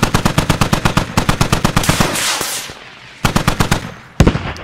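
Squad artillery firing as a rapid, loud burst of evenly spaced booming shots, a pause with a rolling tail, then a shorter burst and a single heavy blast, with no voices.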